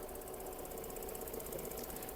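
A Volkswagen Golf 4 with a 1.6 MPI petrol engine idles steadily, a quiet, even mechanical hum with a faint ticking rhythm, heard close and alone with no talking.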